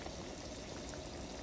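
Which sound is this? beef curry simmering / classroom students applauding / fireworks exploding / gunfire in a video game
beef curry simmering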